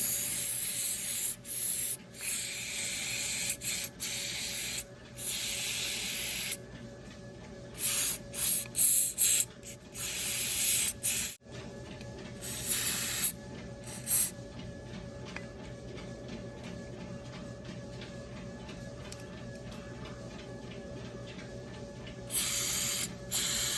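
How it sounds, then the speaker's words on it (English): Carb cleaner sprayed onto the carburetor of a Jumping Jack BS60-2i two-stroke engine, heard as broadband hissing bursts of varying length with pauses, close and fairly loud, no talking. "shoot this down some carb cleaner"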